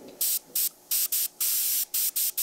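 An airbrush fed from a paper Dixie cup hisses out paint in a steady series of short, loud, evenly spaced bursts while lettering is painted on a vintage truck.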